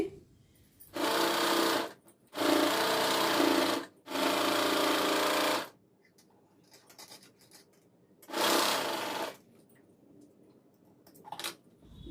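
A sewing machine stitches the side seams and sleeve joints of a blouse in several short bursts of fast, rattling mechanical whirring, separated by quiet gaps with faint handling noise, close and fairly loud.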